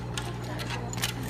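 A sewing machine runs steadily while stitching a half-inch bodice seam around in a circle, with a low continuous motor hum and soft ticking of the needle mechanism, close and moderately quiet, without any talking.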